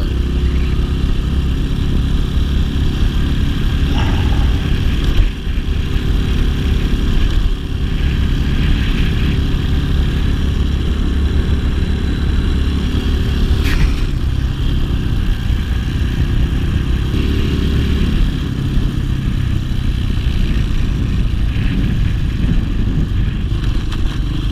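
RPS Hawk 250 dual sport motorcycle ridden on a dirt road, a loud, continuous mid-pitched engine drone with rough rumble and wind, steady throttle and brief bumps.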